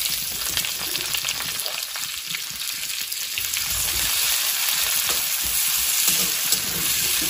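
Onions frying in hot oil for an Assamese pork dish, a continuous bright sizzle with stirring close by.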